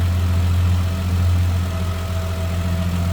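A 1966 Dodge Dart's 225 cubic-inch slant six idles smoothly and loudly up close, a steady low hum with an even, unbroken rumble and no voices.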